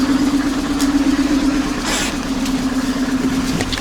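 A car engine idling roughly with a misfiring cylinder, holding a steady low hum with a brief blip of throttle partway through, close and continuous with no talking.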